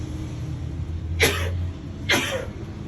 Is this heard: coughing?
yes